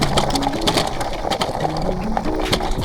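A Macfox X7 electric bike rolls over dirt, its tires crunching gravel and twigs in close, uneven bursts while a faint stepped motor whine rises and falls underneath.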